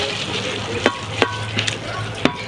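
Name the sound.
sautéing fern with okra and sardines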